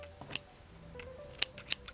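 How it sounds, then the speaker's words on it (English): Scissors snipping crochet yarn at a tabletop, several sharp metallic clicks spaced irregularly over about two seconds, close and crisp against a quiet background. "We're going to snip the yarn."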